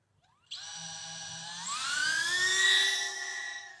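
DJI Neo drone lifting off, its small propellers spinning up suddenly into a high, whiny buzz that climbs sharply in pitch and then holds steady and close.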